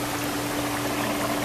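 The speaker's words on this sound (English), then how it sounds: "You see the water running through." Water running through hydroponic lettuce troughs in a growing house, a steady, close, rushing trickle with a constant low pump hum underneath and no talking.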